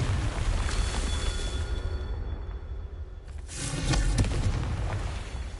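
Fiery Confringo spell blasts in the Hogwarts Legacy video game, a sustained rumbling roar with a second louder burst of crackling explosive noise partway through, booming and dense with no talk.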